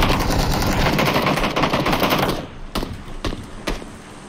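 Rapid automatic gunfire in PUBG on the Miramar desert map, a dense, loud burst for about two seconds, then a few separate sharp shots that fade with a quieter background.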